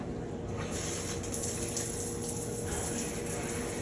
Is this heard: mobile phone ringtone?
no